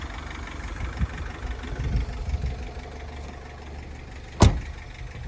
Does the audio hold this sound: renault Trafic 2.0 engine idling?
yes